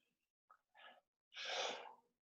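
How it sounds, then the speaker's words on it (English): A single loud, close sneeze from a person, preceded by a couple of quick sharp inhales and followed by silence. "A sneeze."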